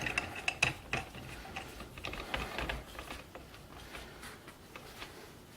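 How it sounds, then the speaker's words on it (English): A handle being screwed by hand into a Makita angle grinder: a series of small close clicks, taps and plastic-on-metal rattles, fairly soft and irregular, with no talking. "And then we put the handle on. It looks like the handle just screws in."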